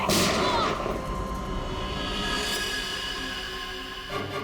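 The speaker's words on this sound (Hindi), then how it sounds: "उसके बाद दूसरी गोली चली" A single loud gunshot-like blast at the start, followed by a long reverberant rumble and a faint second hit near the end.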